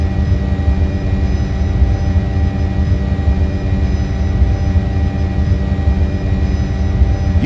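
An Apache helicopter hovers in a flight simulation game, producing a loud, steady engine and rotor drone that stays constant throughout with no voices.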